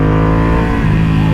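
Ducati Panigale V2 (2021) with a full Akrapovic exhaust downshifting and coasting down, a loud close engine drone with shifting pitch and a rumbling burble, no voices.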